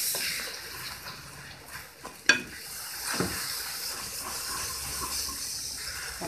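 Soft scraping and swishing as butter and milk are stirred in a pot for caramel sauce, with a faint sizzle underneath and an occasional light clink.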